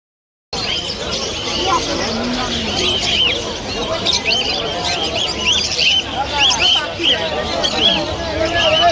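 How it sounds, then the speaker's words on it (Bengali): Birds chirp in quick repeated calls over a steady murmur of crowd chatter and background noise at Galiff Street Sunday market in Kolkata. "অরিজিনাল একটু পাখির ভয়েস শোনাই ভালো লাগে পাখিদের আওয়াজ শুনতে"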